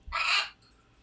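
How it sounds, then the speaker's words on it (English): A pet bird screaming: one harsh, loud, rasping squawk lasting about half a second, close by, followed by quiet room noise. "it is really, really, really hard to ignore a bird that's just screaming at you"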